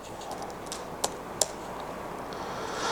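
Soft, distant clicking of a computer keyboard, a few scattered keystrokes over a hissy room background with no talking.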